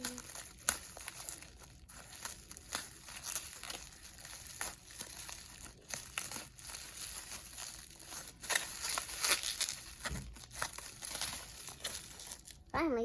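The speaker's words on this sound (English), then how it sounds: "Next thing is we have bubble wrap. And we've got something. And I need to use the scissors and be careful." A bubble wrap package is cut open with scissors, with close crinkling, crackling plastic and soft snips that go on unevenly for several seconds.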